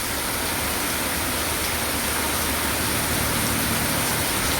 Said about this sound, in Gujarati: આવો ને આવો વરસે તો ખેતરમાં પાણી હાલે નીકળે